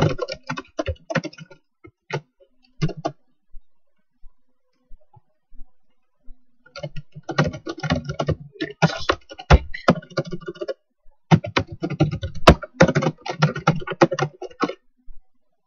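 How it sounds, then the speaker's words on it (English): Fingers type an email on a computer keyboard in quick clattering bursts of keystrokes, close and crisp, separated by short pauses and a longer quiet gap partway through. "Type my email to Charles."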